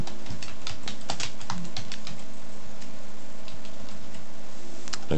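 Typing on a computer keyboard, a steady run of close, crisp key clicks at an irregular rhythm, with a faint background hum.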